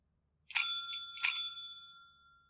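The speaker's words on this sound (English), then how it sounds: "getting as much of the bell sound as I can" Two bright bell strikes for a Twitch channel point alert ring out alone, each with a sharp metallic attack and a long shimmering decay, the second following about three-quarters of a second after the first.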